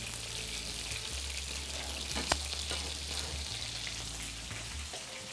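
Vegetables stir-frying in a hot pan for Thai cashew chicken give a steady, close sizzle throughout, with one sharp clink of a utensil partway through and no voices.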